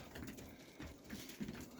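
Pigeons softly cooing inside a pigeon loft, a low murmuring coo repeating in short pulses with faint rustling around them.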